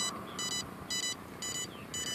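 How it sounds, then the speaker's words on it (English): A high electronic beep from a faulty ESC on a DJI F550 drone repeats in short double-pulsed bursts at a steady rhythm, about every half second, over a low background hum. "now I get this beep"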